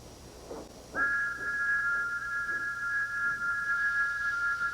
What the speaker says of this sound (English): The sound of Thomas's whistle has changed. Thomas's whistle echoes.